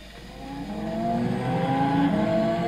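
Bugatti Veyron 8.0-litre W16 quad-turbo engine, mid-mounted with all-wheel drive, in Gran Turismo 6 on the La Sierra circuit, accelerating steadily with rising engine tones that grow louder and climb in pitch, heard alone.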